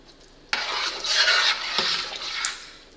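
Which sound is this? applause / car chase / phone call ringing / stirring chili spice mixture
stirring chili spice mixture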